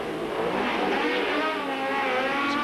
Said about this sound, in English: Next up, Group 6 sports cars.